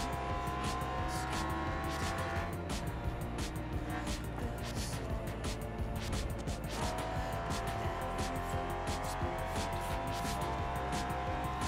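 An Audi race car in a racing video game roars along at high revs, engine pitch climbing and dropping through gear changes and braking, with occasional tyre squeal, steady and loud throughout with no talk.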